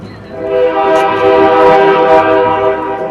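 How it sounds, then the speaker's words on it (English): A passing train sounds its horn in a loud, sustained blast that holds steady for several seconds over the rumble of the rail cars. "hello train."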